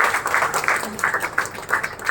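An audience claps to welcome two guests at a public gathering, with a steady patter of applause rising and falling in bursts, fairly close and moderately loud.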